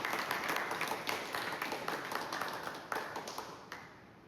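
Audience clapping at a community meeting, a fairly faint, steady patter of many hands that continues throughout and gradually tapers off.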